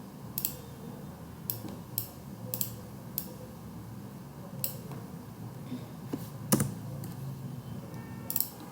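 Typing on a computer keyboard while entering numbers into an Excel spreadsheet: scattered sharp key clicks, some in quick pairs, over a low room hum, fairly close and moderately quiet with no talk.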